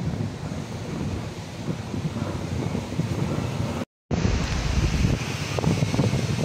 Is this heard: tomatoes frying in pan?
no